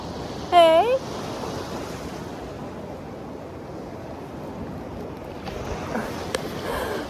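Ocean waves wash on a beach as a steady, broad roar of surf and wind, with a brief high bleat from a baby goat near the start.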